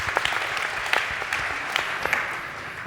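Audience at an AI for Good summit clapping in a steady burst of applause, moderately loud with scattered sharper claps, fading slightly toward the end, no voices.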